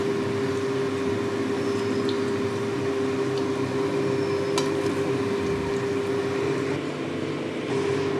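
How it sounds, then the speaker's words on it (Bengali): Fish roe fritters frying in hot oil, a steady, close, continuous sizzle and hiss with a faint background hum and a brief clink partway through, no voices. "ওটা আমি এর মধ্যে ভেজে নেব"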